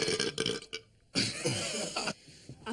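A loud, close burp rumbles out in a few long, gurgling bursts with brief pauses between, heard alone without talk.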